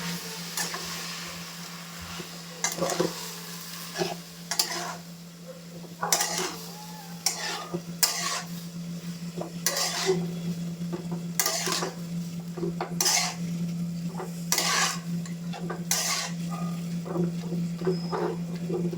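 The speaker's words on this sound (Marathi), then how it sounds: "व्यवस्थित सगळं मिक्स करून घेऊया." A metal spoon stirs and scrapes food in a cooking pan, giving a series of sharp clinks and scrapes over a low steady kitchen hum, with faint sizzling and no talk.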